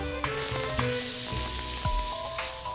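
Onions and pigeon pieces frying in butter in a pan with spices, a steady close sizzle running throughout, with occasional clinks and stirring.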